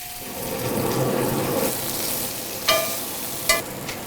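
Rabbit pieces sizzle and brown in a hot pan over high heat, giving a steady crackling fry with a couple of sharp sputters and clicks near the end.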